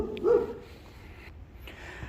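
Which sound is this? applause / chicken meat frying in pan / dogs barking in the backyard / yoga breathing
dogs barking in the backyard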